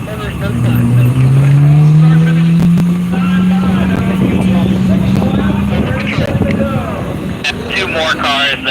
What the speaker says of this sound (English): more cars that had entered and are now exiting pit lane and coming around